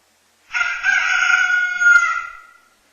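A rooster crows once, a single loud, sustained cock-a-doodle-doo lasting about two seconds, clear and close against silence.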